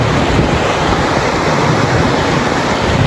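Strong river current rushing steadily at a riverside picnic spot, a loud continuous broadband wash of flowing water with no pauses, close and even throughout.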